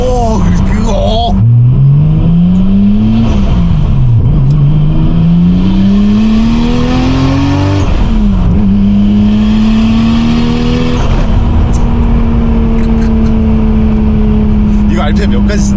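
A right-hand-drive JDM car engine revs hard through repeated rising pulls and gear changes, loud and close inside the cabin, with people talking over it.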